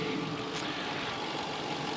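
A 2002 Infiniti Q45 luxury sedan idling just after being started, a quiet, steady low hum with faint ticking, continuous and even throughout.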